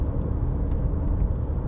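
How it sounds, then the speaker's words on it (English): Steady broadband rumble of a car being driven, engine and road noise blending into a continuous low roar heard from inside the vehicle, with no talking. "we're going to hear the car, the engine, wind, whatever, as we're driving"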